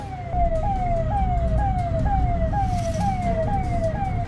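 An emergency vehicle's rapid rising-and-falling siren cycles steadily behind a speeding tractor-trolley on an Indian road, over low engine rumble, fairly close and continuous.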